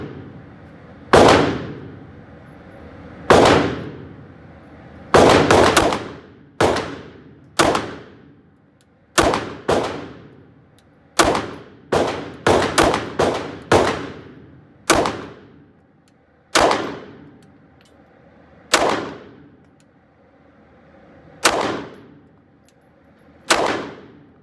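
A CZ P-07 pistol fired at 7 yards at a shooting range: sharp, loud reports, roughly twenty shots in irregular bursts, some quick doubles and a fast string, each ringing briefly before the next.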